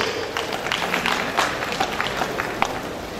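Lecture audience applauding a guest, a dense patter of many hands clapping at moderate distance, steady for a few seconds with no talk over it.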